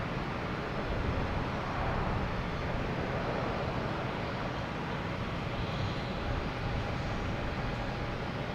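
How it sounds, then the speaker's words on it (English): A JetBlue Airbus A220 takes off from runway 22 Right at Boston Logan Airport, bound for Richmond: a steady, broadband jet roar that stays fairly distant and even for the whole stretch, with no voices. "next we have a JetBlue taking off, heading to Richmond, an A220 on 22 right"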